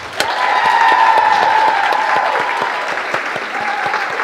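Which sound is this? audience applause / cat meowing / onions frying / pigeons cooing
audience applause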